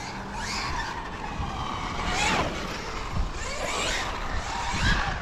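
A Losi Super Baja Rey 2.0 RC truck drifts and slides, its motor whining and tyres scuffing in repeated rising and falling sweeps at close range, with no talk over it.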